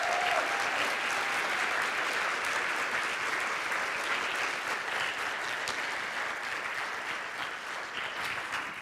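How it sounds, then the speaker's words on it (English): A church audience at Rock Harbor applauds to welcome guest Jan Markell, a dense, steady wash of many hands clapping that fades slightly toward the end, heard at a distance with no voices over it. "Give her a round of applause."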